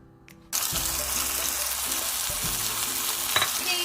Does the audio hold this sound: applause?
no